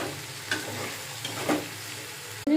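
Potatoes frying with cumin and turmeric in a pan, a steady sizzle with a few soft stirring scrapes and a sharper clack at the end.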